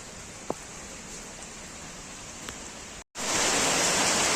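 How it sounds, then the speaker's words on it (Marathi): Dense, steady roar of heavy rain, broken by a brief dropout, then returning louder and closer; a couple of faint clicks stand out early on. "जोरात पाऊस येतोय"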